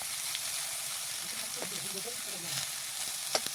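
Lotus root slices fry in a pan of hot oil, giving a quiet, continuous sizzle with small crackles and a few brief clinks.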